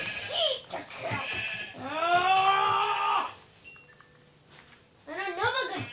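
A sheep in a video game gives a long, wavering bleat in the middle, with shorter animal cries at the start and end, all under and between excited speech from a player.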